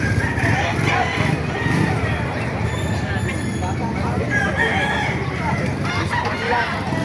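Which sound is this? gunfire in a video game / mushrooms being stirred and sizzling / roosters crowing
roosters crowing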